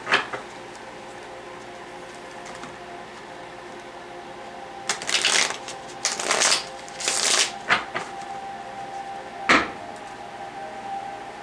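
A deck of tarot cards being shuffled by hand in several bursts of riffling and slapping, with quiet pauses between, close and fairly loud in a quiet room.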